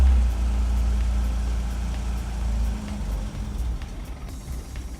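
An Opel Manta engine, just back together after a refit, idles with a deep, uneven rumble and sags as though starved of fuel, running steady and close throughout.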